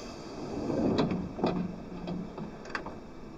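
Yamanote Line train doors closing in a PS2 train simulator: a soft sliding rumble ends in a few light clunks and ticks, with a chime-like tone in the background.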